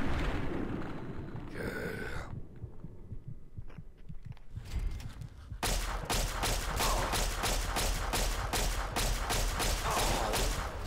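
Gunfire in the video game Fallout 3: after a quieter start, a rapid run of evenly spaced loud shots fills the second half.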